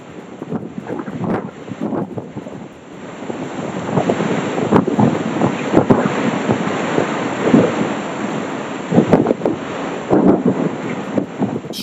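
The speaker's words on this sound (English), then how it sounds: "Strong winds suddenly blew open the store gate and sent empty boxes flying" Strong gusting wind roars steadily and loudly, buffeting the microphone with turbulent low rumble and occasional sharper bursts, while sudden blows toss the gate open and empty boxes go flying; no voices.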